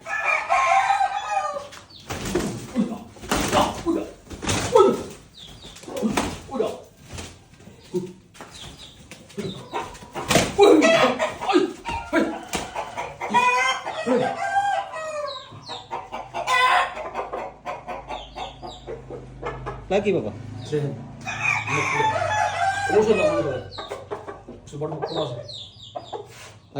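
Chickens cluck loudly and repeatedly close by, with a rooster crowing among them over a long stretch, while people talk intermittently over the flock.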